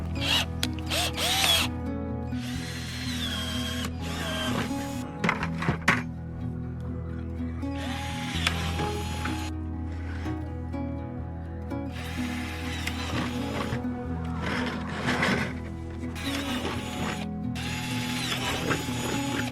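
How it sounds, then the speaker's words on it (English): A power drill bores eight holes through a plastic bucket in short whirring bursts, with ratcheting, grinding pauses between them, loud and close with no talk. "Got this bucket. I'm about to drill 8 holes."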